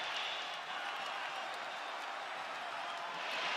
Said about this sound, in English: A standing ovation from the capacity crowd in Perth